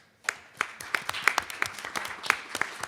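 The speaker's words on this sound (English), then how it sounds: "a quick round of applause for McKonly Asbury." At a trust company's launch event in Philadelphia, an indoor audience gives a brief round of applause. The claps are sparse and distinct, then thicken slightly before it ends, heard alone.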